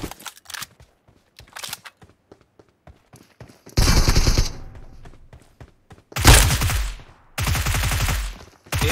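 Bursts of automatic gunfire crack out in a battle royale shooter game, arriving in dense loud volleys between quieter single shots and short pauses, near and sharp.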